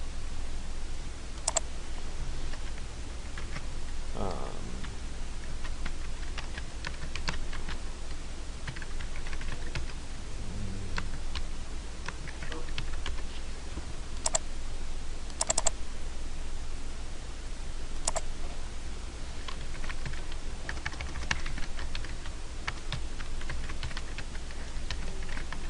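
Soft typing of a file name on a computer keyboard, with scattered key clicks and a few sharper taps over a steady low hum, quiet and close, no speech.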